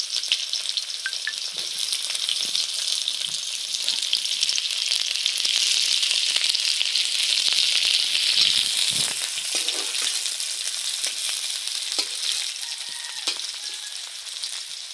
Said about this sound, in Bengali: তেলটা এখন গরম হয়ে গেছে, এখন শুকনো লঙ্কা ভেজে নেব।